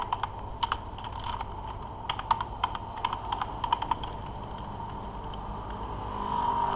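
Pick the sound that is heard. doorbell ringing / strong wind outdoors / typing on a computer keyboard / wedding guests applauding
typing on a computer keyboard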